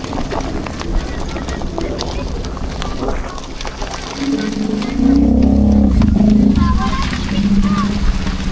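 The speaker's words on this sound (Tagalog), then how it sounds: "Grabe, biglang bagsak yung ulan." Sudden heavy downpour on a motorcycle ride near a bridge, a dense steady wash of rain and wind that swells louder partway through, with someone talking over it.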